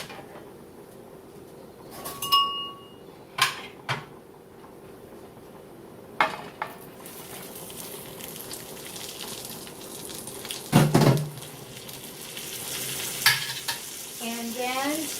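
Pork dropped back into a hot skillet with scraped-up browned bits, setting off a steady sizzle and frying crackle, with occasional clinks of a utensil against the pan and stirring noises.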